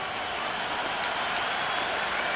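Stadium crowd applauding in the video game Cricket 26, a dense, loud, steady wash of clapping and crowd roar that fills the whole moment without a break.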